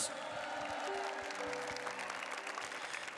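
Audience applause for a band's drummer at a live Christian music show, steady clapping throughout with sustained band tones ringing underneath and a faint voice.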